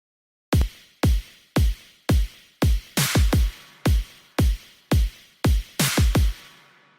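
Electronic drum pattern from a produced track, a steady loop of punchy kick-and-snare hits about twice per second, with some doubled hits, loud and alone without talk, ending after about seven seconds.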